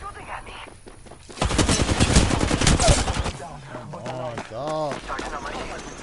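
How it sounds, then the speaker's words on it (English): Rapid gunfire bursts in Apex Legends, a dense volley of close shots for about two seconds, followed by lighter weapon sounds and a voice talking over the action. "They're shooting at me!"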